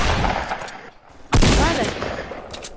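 Gunfire in a PS4 game, a sudden loud burst of rapid shots after a quieter stretch of background noise, with sharp repeated cracks continuing to the end of the clip.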